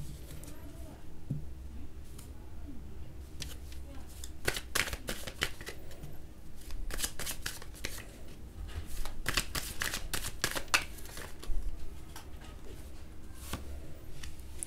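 Tarot cards shuffled close up in rapid bursts of crisp riffling and flapping, grouped into quick rhythmic runs with brief pauses between them, loud against a quiet room.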